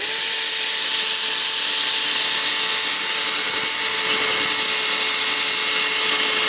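Machine buffing of a 2005 Toyota Prius headlight with 800 grit, a steady whining hum with a high-pitched tonal whine held constant throughout, loud and close with no talk.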